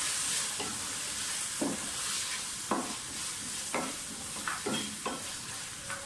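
Onions fry in a pan for mixed vegetables with a constant close sizzle. Repeated spatula scrapes and stirring strokes come every second or so, moderately loud over the hiss.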